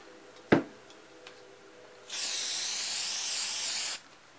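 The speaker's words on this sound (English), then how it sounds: "I'm going to spray the ribbon. Not a lot, just enough to get it on there." A single click, then a steady hissing spray from an aerosol can of adhesive onto ribbon lasting about two seconds, close by and fairly loud.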